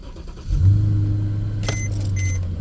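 A car's push-button ignition fires the engine at an auction lot, settling into a steady, close idle rumble with a brief chime or beep partway through.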